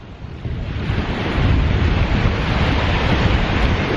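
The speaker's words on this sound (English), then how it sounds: "So you can see how strong these waves are now, guys." Strong sea waves churn and crash in a dense, loud roar of surf mixed with wind buffeting the microphone, swelling slightly after the first second and staying steady.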